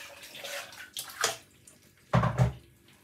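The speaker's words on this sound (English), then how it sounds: "let's rinse out this one with some hot water" Hot water runs from a tap to rinse out a container, splashing in two bursts with a louder gush near the end, faint and close.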